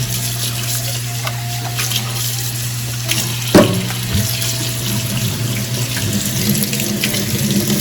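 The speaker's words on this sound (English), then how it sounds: "we're going to dump a can of the beans in here, and we're going to rinse them thoroughly." Canned beans rinsed under a running kitchen tap, with a loud steady stream of water splashing into a sink or strainer, a sharp clunk partway through and then churning water, close and with no talk.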